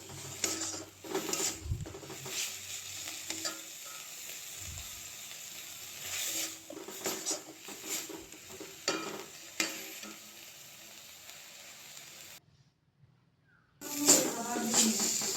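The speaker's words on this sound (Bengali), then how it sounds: "চিনি দিয়ে ভালো করে নাড়িয়ে নাড়িয়ে জিনিসটা শুকনো শুকনো করতে হবে।" Mashed raw banana peel with salt, turmeric and sugar is stirred in a pan, giving soft repeated scraping strokes over a faint sizzle, fairly quiet and close.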